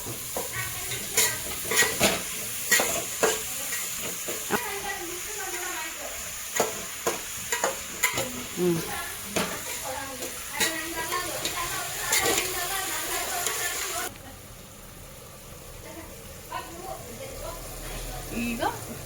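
Onion greens and fenugreek leaves frying in a pan, a continuous sizzle broken by repeated scraping stirs, louder for most of the stretch then dropping softer near the end.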